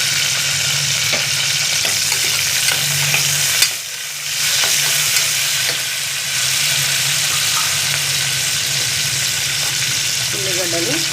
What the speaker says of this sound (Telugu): పచ్చిమిర్చి వేసుకుందాము. బాగా నూనెలు నొక్కించుకుందాం.